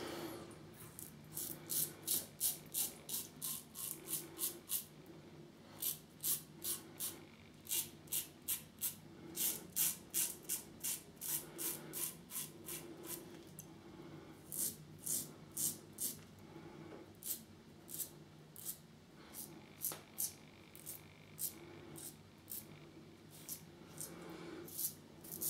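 A Carbon CX-316L safety razor with a 0.68 blade gap scrapes through lather on the first shaving pass, making close, crisp strokes in quick rhythmic bursts, with short pauses between runs.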